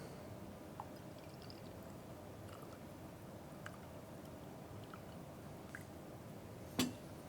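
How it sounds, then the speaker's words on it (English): Hot water pours into an AeroPress coffee maker in a steady, soft hiss, quiet and continuous, with a single light clink near the end. "now I'm going to add 100 grams of hot water"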